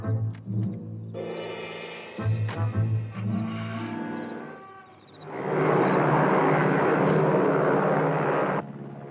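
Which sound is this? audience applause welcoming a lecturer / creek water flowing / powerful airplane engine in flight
powerful airplane engine in flight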